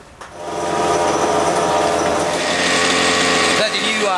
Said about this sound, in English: That's your new fired up motor, isn't it? Sounds hot.